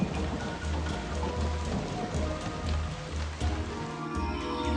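Heavy rain pours down in a steady, dense roar from storm clouds, continuous and close throughout with no voices.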